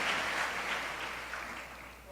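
A church congregation applauding during a Portuguese-language service, a brief wash of clapping from many hands that slowly fades, heard at a moderate distance.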